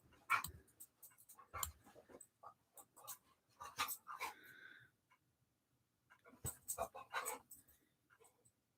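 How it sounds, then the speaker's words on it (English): A dog pants in quick, close bursts of loud huffing breaths, broken by short pauses indoors. "my dog's going to be really loud"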